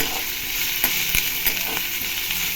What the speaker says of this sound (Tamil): இப்போ வெங்காயம் போட்டு நல்லா இதை எண்ணெயிலேயே நல்லா ஃப்ரை பண்ணிடலாம்